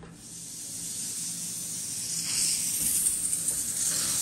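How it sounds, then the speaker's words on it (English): High-pressure steam hissing from an espresso machine's steam nozzle, a sustained, bright, breathy rush that gradually grows louder and rougher toward the end. "So I'll start warming up the espresso machine with the steam nozzle"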